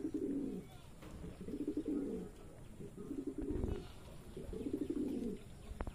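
A racer pigeon coos in repeated rounded bursts, about four phrases spaced roughly a second apart, close by and clear against a faint background hiss.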